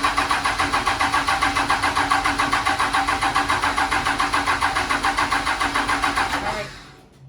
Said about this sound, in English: we can do a first fire up with the full compound kit